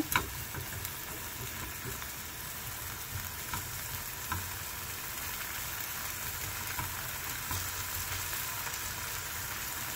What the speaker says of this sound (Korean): 그래서 이 파가 지글지글 하거든요